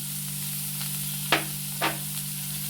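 Chopped onion, green chili and thin coconut slices sizzling steadily in a pan, with two distinct spoon scrapes or stirs breaking through the even frying hiss, no voices.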